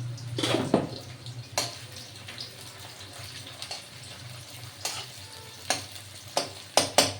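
Paste of ginger, garlic, onion and green chili frying in a pan, a soft continuous sizzle broken by sharp clacks and scrapes of a spoon against the pan, close and fairly quiet, with no voices.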